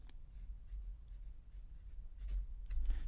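A Gravitas Entry fountain pen with a fine flex nib scratches faintly across paper in normal handwriting, soft close strokes over a low background rumble.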